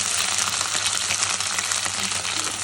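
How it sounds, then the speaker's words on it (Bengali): Dried kachki fish frying in hot oil in a pan, a dense, steady sizzle that holds close and loud throughout. "আমি তেল দিয়েই এই শুটকিটাকে ভালো করে ভেজে নেব"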